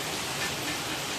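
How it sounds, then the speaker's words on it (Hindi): Heavy rain pours down in a dense, continuous hiss, loud and close, with no voices. "देखिए आप अंदाजा लगा सकते हैं कितनी बारिश हो रही है यहाँ पे"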